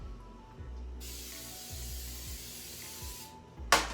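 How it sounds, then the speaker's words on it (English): Coconut oil sprayed from an aerosol can onto a cookie sheet, one sustained hiss of about two and a half seconds followed by a short sharp burst at the end, close by. "I take a cookie sheet and I spray it with oil."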